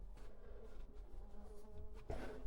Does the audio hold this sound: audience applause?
no